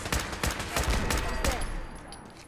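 Automated turret gunfire in Fallout 4 comes as rapid repeated shots in quick bursts, loud and close, gradually easing off near the end.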